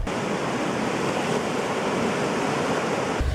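Ocean surf washing onto an Oregon beach at high tide near Lincoln City, a steady broadband roar of breaking waves that stays loud and continuous throughout, with no talking.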